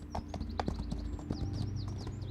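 Horse hooves clip-clop on the ground in Equinox Homecoming, a quick irregular run of close hoofbeats over a low ambient game bed, with faint high bird-like chirps and no talk.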